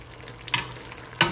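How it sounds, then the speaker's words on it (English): Spinach sauce simmering in a pan gives a soft, steady bubbling hiss close by, broken by two sharp brief stirring or scraping bursts, with no voices. "So this has come to a nice simmer."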